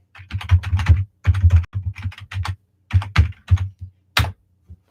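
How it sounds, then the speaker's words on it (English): Keys on a computer keyboard are typed in quick, close bursts of clicking, with short pauses between runs and a final isolated tap. "I'll type in the address for you."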